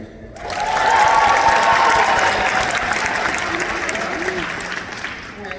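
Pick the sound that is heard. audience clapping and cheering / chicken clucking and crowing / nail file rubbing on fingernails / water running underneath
audience clapping and cheering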